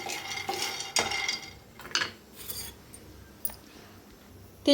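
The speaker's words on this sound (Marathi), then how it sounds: "शेंगदाणे भाजून घेऊया आपण तर शेंगदाणे असे भाजून घेऊया" Peanuts dry roasting in a pan, heard as faint scattered scrapes and clinks of a spatula and rattling nuts against metal, with a louder clatter at the very end, quiet and close with no voices.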